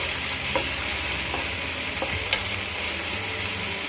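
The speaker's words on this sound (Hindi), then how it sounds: "अब इसे हम अच्छे से भूनना है जब तक ये सॉफ्ट नहीं हो जाते" Roughly chopped tomato sautéing in a pan for bread upma makes a constant, close sizzling hiss, broken by a few faint spatula taps and scrapes.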